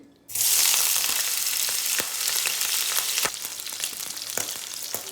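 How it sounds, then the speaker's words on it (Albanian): Potatoes dropped into hot olive oil in a pan, an abrupt loud burst of sizzling that settles into steady frying with a few stirring clicks, close up and without talk. "i lëmë të marrim një skuqje të lehtë"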